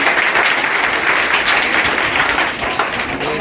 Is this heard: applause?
yes